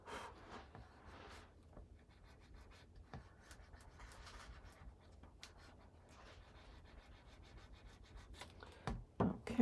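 A burnishing tool rubs firmly over paper in soft, scratchy strokes that run quietly up close, with a few louder scuffs near the end.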